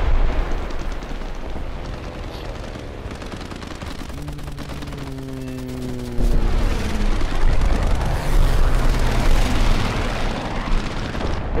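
Aircraft in War Thunder bursting into flames under machine gun fire: dense, continuous crackle of gunfire and booming blasts, with a rising drone partway through and heavier rumbling bursts in the second half.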